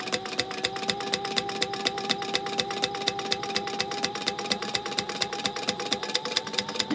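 A sewing machine top stitching fabric for a gingerbread house gift holder, running steadily with a fast, even mechanical clatter and a constant motor hum, close and alone.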